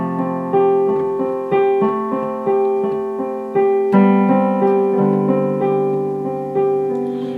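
Piano playing the bridge of a song in the lower register, steady repeated chords struck in an even rhythm with a sustained melody over them, clear and close with no voices.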